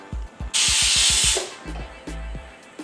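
A loud, sustained hiss of steam bursts from a pressure cooker whistle for about a second, set among rapid low mechanical pops and rattles that continue before and after, while cooking jackfruit thoran.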